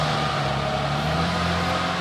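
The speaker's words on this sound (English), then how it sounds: "My neighbors are having some stumps ground." A stump grinder works on tree stumps at a neighbor's property, a steady droning engine whine with constant grinding noise carrying across from nearby.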